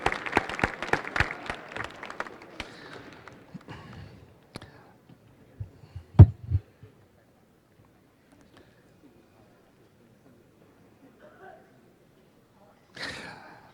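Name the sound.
audience applause at a Chinese New Year celebration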